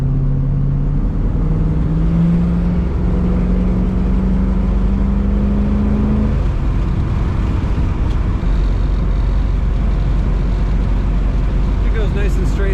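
A 1969 Ford Mustang Mach 1 R-Code cruising along a road, a steady loud engine drone and road rumble from inside the cabin, with a rising whine early on.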